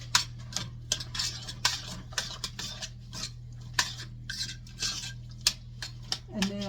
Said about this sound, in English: And then you want to stir that.